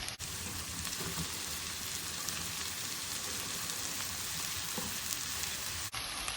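Washed dried anchovies fry in hot oil in a pan with a loud, dense, hissing sizzle, steady and close throughout with a rain-like crackle, no speech.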